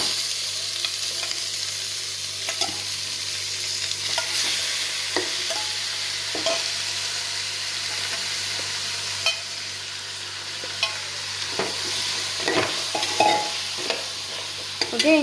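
Marinated mutton sizzles steadily in a pan with fried onions, with irregular scraping stirs from a utensil knocking the pan throughout, close and continuous.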